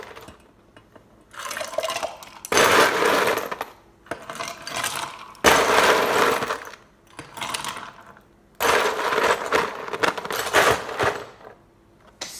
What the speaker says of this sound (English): what I like to do is just add a cup of ice